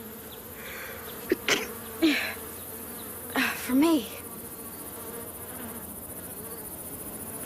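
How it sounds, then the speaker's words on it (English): Steady insect buzzing like a swarm of bees continues throughout, while a few short spoken words cut in briefly near the middle. "Bees, of course."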